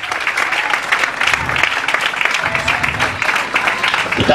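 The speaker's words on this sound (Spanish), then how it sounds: "dale el aplauso al Señor en esta noche" A church congregation claps loudly and steadily for the Lord during an evening service, a dense continuous patter of many hands with a faint murmur of voices beneath it.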